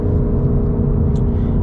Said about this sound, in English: gotta love the sound of this thing, man. It sounds great.